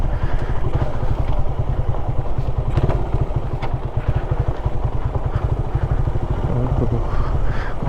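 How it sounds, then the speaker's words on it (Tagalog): Motorcycle riding along a partly unpaved, not yet cemented road toward a waterfall in Tublay, Benguet, its engine a steady loud rumble throughout with occasional clatter and thumps from the rough surface. "Gusto ko yung motor ni Kuya"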